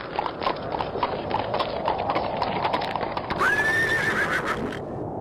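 A horse clip-clops steadily along a forest path, hoofbeats close and regular, with a loud whinny rising partway through over a constant background hiss.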